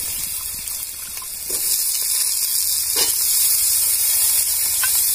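Cubed potatoes drop into hot spiced oil for a Bengali dal palak, setting off a steady, close sizzle that swells after the first moment and keeps crackling on its own.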